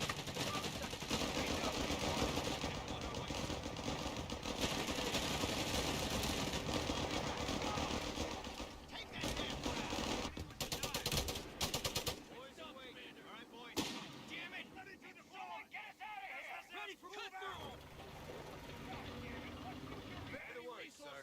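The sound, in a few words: flak and gunfire in the video game Company of Heroes 3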